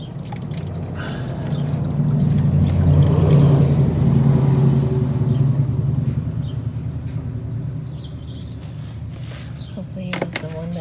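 Transmission oil draining from a VW DSG gearbox during an oil change, a steady pouring trickle that swells and then eases, with occasional drips and clinks near the end and a voice speaking over it.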